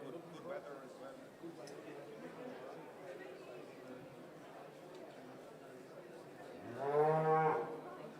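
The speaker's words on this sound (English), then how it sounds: "the first time the Fleckfie cattle have been shown both at Emerald Expo or in Ireland" Fleckvieh cattle at the Emerald Expo agricultural show at Virginia Showgrounds, one loud, drawn-out moo near the end over steady crowd chatter and talking.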